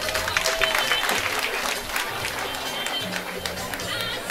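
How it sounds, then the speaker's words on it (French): Crowd applauding at a March 8 Women's Day celebration in Sanghé, with dense sustained clapping from many people, steady and loud, and some cheering and chatter mixed in. "Vos applaudissements, s'il vous plaît."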